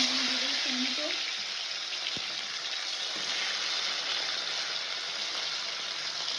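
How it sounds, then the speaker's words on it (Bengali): Black cumin (kalonji) seeds fry in hot oil for a mustard pabda fish curry, a steady close-up sizzle with a few faint low tones near the start. "কালো জিরেটা একটু ভাজা ভাজা করে নেবো"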